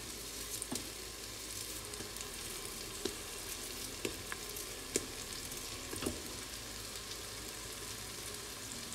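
Carrots and other vegetables sizzle and fry steadily in a pan for soup, a dense continuous crackle with occasional stirring knocks, close and fairly quiet, no talking.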